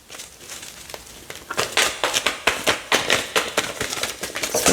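Tarot cards being shuffled by hand, a run of close, crisp riffling snaps and papery rustles repeating in quick bursts, with no talking.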